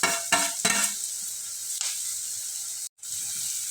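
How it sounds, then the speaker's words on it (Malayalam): Sliced onions sizzling in hot oil as green chillies and curry leaves are added for a cutlet recipe. A few stirring scrapes come near the start, then a steady close frying hiss with a brief dropout near the end. "അപ്പോൾ ഉള്ളി നല്ലോണം വാടി വന്നപ്പോൾ പച്ചമുളകും കറിവേപ്പിലയും കൂടി ഇട്ട് കൊടുക്കാം."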